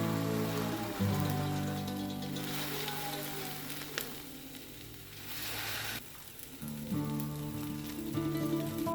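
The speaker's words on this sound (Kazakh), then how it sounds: "Және оны қызып тұрған табаға салып, үстінен мінекей осылай кішкене басыңқырап, орташа оттан сәл қатты отта әр жағын шамамен 4-5 минуттай қуырып аламыз." Chicken pieces pressed down in a hot pan over medium-high heat give a steady, close frying sizzle with background music, dipping briefly near the end before resuming.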